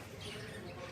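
Lovebirds in a breeding colony squawk and chatter in a dense, continuous mass of high calls at moderate distance.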